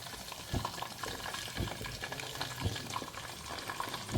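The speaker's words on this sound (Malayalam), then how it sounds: "ജസ്റ്റ് ഒന്ന് ഷാലോ ഫ്രൈ ചെയ്തെടുക്കുകയാണ്." Pearl spot fish (karimeen) shallow frying in a pan of oil, a close, continuous sizzle and crackle with scattered louder pops and spatters throughout.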